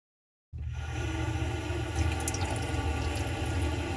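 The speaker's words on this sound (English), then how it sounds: "turn the water on" Steady water running from a bathroom sink faucet, starting abruptly after a moment of silence and continuing as an even, close hiss with no voices.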